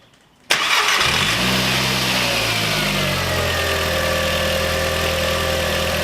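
A car engine with a Forge diverter/dump valve fitted cranks and catches after a brief quiet moment, then settles into a steady, loud idle, with a high whine above it as it warms up.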